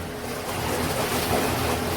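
Dirty water spills and splashes from the washing tub of a small twin-tub portable washing machine into its spinner through a poor seal, a steady broadband rush that swells slightly partway through, with no talking.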